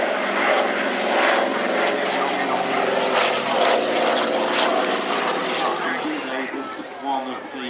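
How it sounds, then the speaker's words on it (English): The piston engines of a Douglas Dakota propeller airliner drone at an RAF air show, a loud sustained throbbing roar that shifts as the plane passes, with someone talking over it. "one of the most famous aircraft types in the world, conceived as the Douglas Sleeper Transport"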